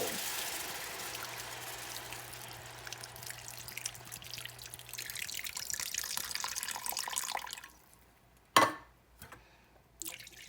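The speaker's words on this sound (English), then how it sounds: "now we're going to add our 2 cans of broth and let that start coming to a good boil." Two cans of broth pour into a crockpot as a steady, soft liquid splash for several seconds, then taper off, followed by a sharp clunk and light handling knocks.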